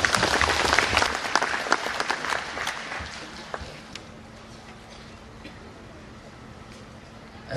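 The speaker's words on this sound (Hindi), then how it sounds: "और थोड़ा जोर से ताली बजाएं।" A church congregation applauds during a priestly ordination ceremony, a loud burst of dense clapping that gradually thins and fades over a few seconds.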